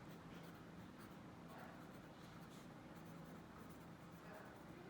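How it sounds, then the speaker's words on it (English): Pen or pencil writing on paper during a Saxon Advanced Mathematics lesson, a steady close scratchy scribble running throughout over a low background hum. "I'll show you, just let me write this."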